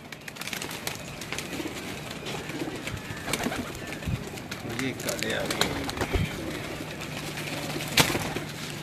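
Pigeons coo repeatedly on a rooftop, blue and black birds calling near and far, with occasional wing flaps, while someone talks over them.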